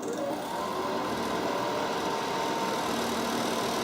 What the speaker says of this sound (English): when I do this short press, the compressor will automatically kick on and the fan will default to medium.